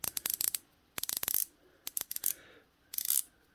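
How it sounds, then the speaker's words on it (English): Crisp ratcheting clicks from turning the bezel of a Trendhim Seizmont quartz dive watch with a coin edge, coming in four quick bursts of rapid ticks separated by short pauses, close and alone. "We'll have another quick listen to that bezel"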